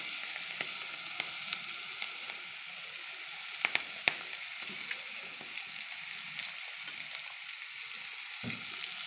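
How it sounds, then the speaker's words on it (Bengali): Rui fish fries in oil in a wok, a soft, even sizzle that continues throughout, with a few faint pops and ticks and no voices. "মাছ ভাজার তেলেই মাছটা নামিয়ে দেবো।"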